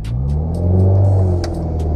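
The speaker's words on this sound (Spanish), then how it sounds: "Acelero." A manual car's engine climbs in a low, steady rumble as the driver presses the throttle during a slow uphill start, loud and close, with a few light clicks over it.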